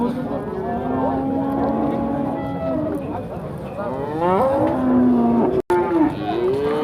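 Cattle moo loudly and at length at a livestock market, several drawn-out lowing calls overlapping each other, with market chatter going on beneath them.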